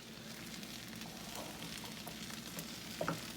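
Eggs for an omelette fry in a non-stick skillet, a soft, steady sizzle with light crackles and a brief scrape near the end, heard alone and fairly quiet.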